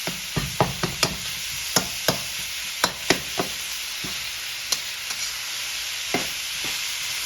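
Ground beef sizzles in a hot pan for taco-seasoned Rotel dip spaghetti while a utensil tosses and breaks it up, with sharp scraping knocks at irregular intervals over a constant frying hiss.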